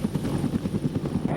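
A Marine AH-1W Super Cobra attack helicopter's rotor thumps in a steady, rapid rhythm, loud and close, with a deep engine drone underneath and no voices.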